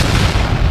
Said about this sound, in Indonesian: tepat saat gelombang energi Monfar meledak sekali lagi